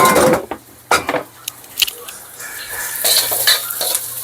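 Chili being sautéed in a pan for adobo sizzles steadily while a utensil stirs and scrapes, with irregular knocks and clatters against the pan, close and fairly loud.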